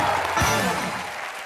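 A studio audience at a comedy show claps in a brief, loud burst of dense applause that carries steadily for about a second and a half.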